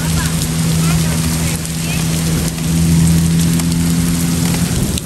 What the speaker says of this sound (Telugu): ఇక్కడ ఐస్ ముక్కలు పడుతున్నాయి చిన్న చిన్నగా, అందుకే అంత సౌండ్ వస్తూ ఉండింది